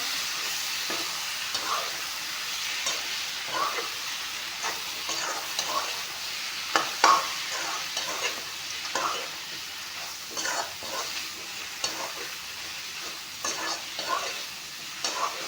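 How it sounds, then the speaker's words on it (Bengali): Spices fry in oil for a mutton curry, a continuous close sizzle broken by frequent scraping stirs of a spoon against the pan, with no talking. "এতিয়া এইখিনি মছলাখিনি দি অলপমান ভাজি লওঁ"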